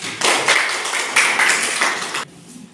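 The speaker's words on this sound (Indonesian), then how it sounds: "Boleh kasih tepuk tangan." A classroom of students claps together in a dense burst lasting about two seconds, close and fairly loud, then stops abruptly.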